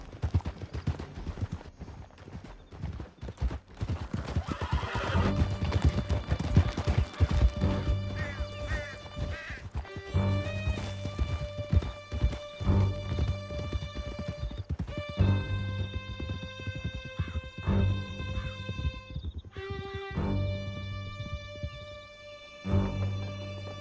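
A horse gallops in Red Dead Redemption 2 with rapid, steady hoofbeats up close, mixed with clattering hits, whinnies and layered game sounds over much of the stretch.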